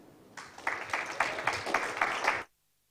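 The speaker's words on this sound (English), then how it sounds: "Please, another round of applause for her." At a communications technology conference, a small audience claps briefly. The clapping swells in, holds for about two seconds with distinct hand claps, then cuts off abruptly into silence.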